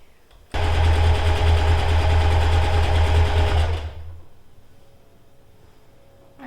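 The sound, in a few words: sewing machine stitching fabric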